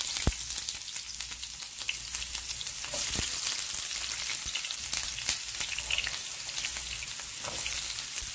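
Onion and celery sizzle loudly in a hot pan, with a dense, continuous frying hiss broken by sharp pops and occasional clicks of stirring, heard up close with no talking.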